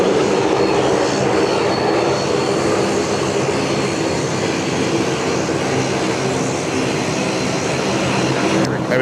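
A plane lands on a wet runway at Sydney Airport, giving a loud, continuous engine and spray roar that holds steady throughout, with speech faintly present.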